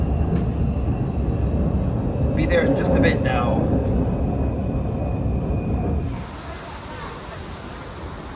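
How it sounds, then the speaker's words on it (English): An elevated metro train rolls along the line toward Cicheng in Ningbo, a steady low rumble heard from inside the car with a short electronic chime, and someone talks over it briefly before the noise softens. "Currently riding the metro on an elevated line"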